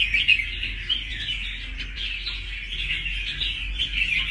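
A caged red-whiskered bulbul gives continuous bright chirping song at steady loudness, close to the microphone, with no talk over it.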